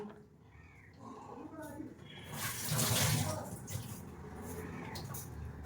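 Running water splashes as a batch of cut potatoes is washed in a kitchen, swelling into a louder rinsing gush midway before settling into a softer flow, with faint background sounds.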